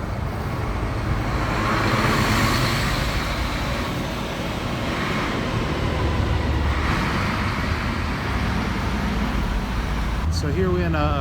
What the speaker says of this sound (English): There's this tunnel and traffic goes through there both ways.